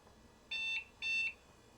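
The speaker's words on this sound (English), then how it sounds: "There it goes, beeping at me." A Compaq Deskpro 2000 Pentium Pro desktop computer gives two short, even electronic beeps at startup, clean and steady against a quiet background hum.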